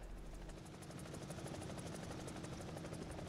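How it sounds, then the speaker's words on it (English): A helicopter in the combat flight game War Thunder drones continuously with a steady rotor beat and low engine hum, faint and even throughout with no voices. "Helicopter flight models?"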